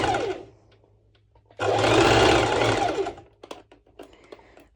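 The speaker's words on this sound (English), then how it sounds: "So I'm going to bust stitch right now this bit." A sewing machine stitches swimsuit fabric in a steady, close, loud whir lasting under two seconds, with quieter handling clicks before and after.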